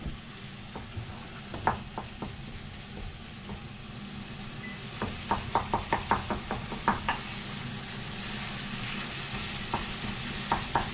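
Mushrooms fry in a pan for mapo tofu, a steady soft sizzle with scattered clicks and knocks of a utensil stirring against the pan, close and without talk.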